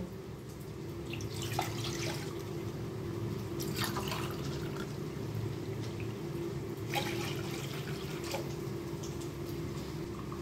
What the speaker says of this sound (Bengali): এই গ্লাসে 2 গ্লাস জল নিয়ে নেব।